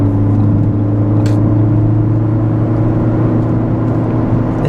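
A Ford Focus ST drives on a road from inside the cabin, giving a loud, steady engine hum and road rumble that holds constant throughout with no talking.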